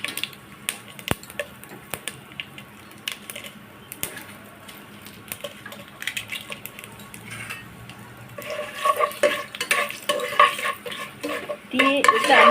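Panch phoron, bay leaf and dried chili fry in a pan, with sparse clicks and utensil taps at first, then a louder, crackling sizzle and stirring that grows toward the end, close by with no talking.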